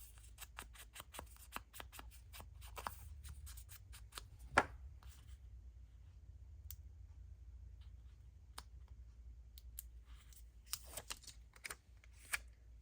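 Scissors snip paper for envelope pocket tags in a quiet room, a quick run of crisp cuts followed by scattered single snips and a final cluster of close, light cutting sounds.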